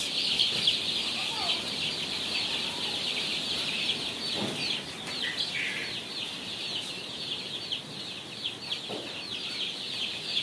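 Tiger-breed chicks on a poultry farm in Jamalpur, Bangladesh, keep up a dense, continuous chorus of high peeping, with a few fainter clucks and soft background farm noise.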